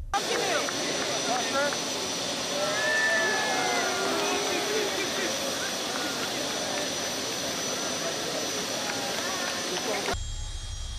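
Aircraft engines whine and roar steadily as a plane prepares to taxi at an airport during a farewell ceremony, a sustained loud hum that cuts off abruptly near the end.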